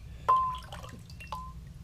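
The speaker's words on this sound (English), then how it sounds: "Rinse it off one more time." Water rinsing off a freshly cleaned, descaled showerhead, heard as two distinct close drips or splashes over a low, steady background hum.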